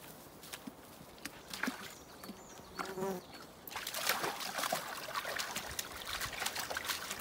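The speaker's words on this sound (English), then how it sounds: "The fly's bothering you, pal." Fly buzzing around a spaniel outdoors during a woodland mushroom hunt, a faint intermittent whine against rustling and soft footsteps, with a louder stretch of rustling movement in the second half.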